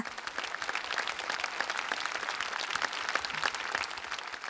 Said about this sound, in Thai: ปรบมือให้กับทุกคนเลยดีไหมคะ